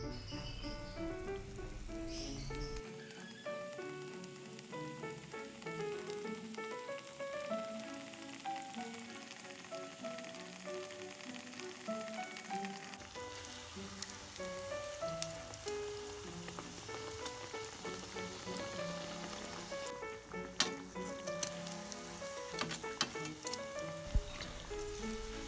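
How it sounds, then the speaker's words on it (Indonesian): Crispy smashed egg (telur geprek) fries in hot oil, giving a steady, close sizzling crackle that runs continuously under soft background music. "Jangan lupa masukkan ke dalam minyak yang sudah panas teman-teman."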